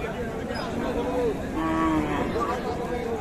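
A cow at a cattle market lets out a couple of drawn-out, medium-close moos over a busy background of crowd chatter.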